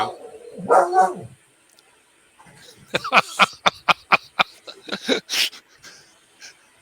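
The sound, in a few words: dog barking hoarsely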